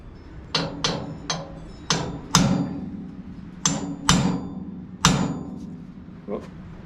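A hammer strikes a punch into a steel ATV winch mounting bracket to mark a hole, eight sharp ringing metallic blows in uneven succession, close and loud, with no talking.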